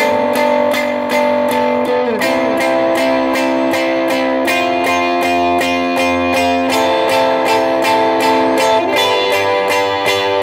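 An electric guitar plays the bridge of a worship song, with dense, sustained chords and steady rhythmic strums, loud and continuous with no voices.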